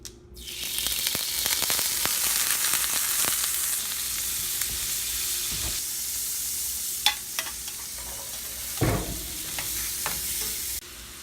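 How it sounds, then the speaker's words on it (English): Onions and garlic frying in bacon grease and a little butter for low carb quiche muffins, a steady close sizzle under repeated stirring and scraping strokes in the pan, with no talk. "we have the garlic and the onions, which we're going to fry up right now in the bacon grease"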